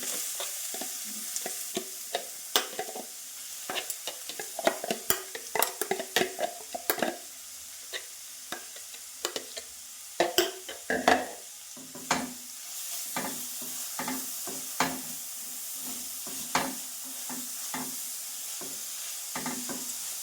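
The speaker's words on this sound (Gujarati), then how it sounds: "અને હવે ગાજરને મસ્ત રીતે હલાવી લઈશું અને તેને થોડી વાર માટે કૂક થવા દઈશું" Carrots being stirred in melted ghee in a pan for carrot kheer: irregular scraping and clacking strokes over a steady low sizzle, close and fairly busy throughout, with no talking.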